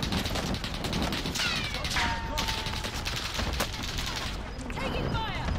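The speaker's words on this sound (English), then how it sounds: "Taking fire." Gunfire in the video game Warzone: rapid, dense volleys of shots and crackling bursts continue for several seconds at a steady loud level, with voices talking over the action.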